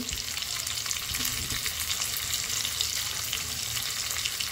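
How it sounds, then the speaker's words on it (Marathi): Tomatoes and garlic frying in a pan for a spiced chutney give a steady, dense sizzle with crackling spatters throughout, close and unbroken, with no voices. "टोमॅटो आणि लसूण थोडासा लालसर होईपर्यंत तळायचा आहे, भाजायचा आहे"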